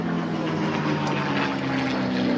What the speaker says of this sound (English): you'll hear that wonderful purr of the Rolls-Royce Merlin engines in the Mustang leading the Spitfire on a ground attack pass via the aerodrome